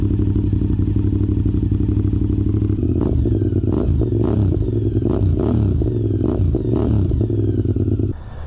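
A Honda RC51 motorcycle exhaust, loud and close, with a steady deep idle burble that breaks into a series of sharp revs and throttle blips before settling down.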